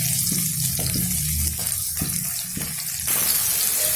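Vegetables frying in hot oil while cooking a fish Navaratna dish, a loud close hiss and sputter with bursts of stirring or shifting, rising to a fuller sizzle near the end.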